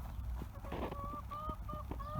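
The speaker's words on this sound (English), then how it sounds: "That's Daphne, the hen." A hen named Daphne clucks in a garden allotment, a few short tonal calls repeating at a steady rhythm, fairly close, over low outdoor background noise.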